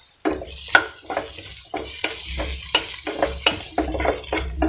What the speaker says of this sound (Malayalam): ക്യാപ്സിക്കം ചെറുതായൊന്ന് സോഫ്റ്റ് ആയി തുടങ്ങണം. അതുവരെ ഇത് വഴറ്റി കൊടുക്കാം.